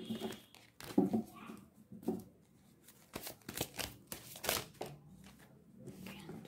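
Tarot cards being shuffled and drawn by hand, giving close, papery riffles and crinkly flicks in irregular bursts with short pauses between them.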